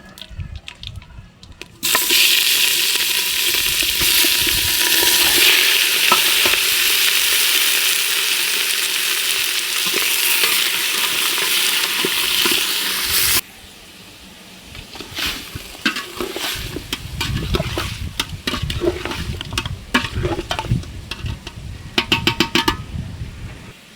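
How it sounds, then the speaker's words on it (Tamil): Meat for a Tamil salted-meat dish (uppu kari) is tipped into a hot pan with curry leaves, setting off a loud, steady sizzle and frying hiss, then quieter stirring and scraping with intermittent crackle. "இப்போ கறியை கொட்டிக்கலாம்."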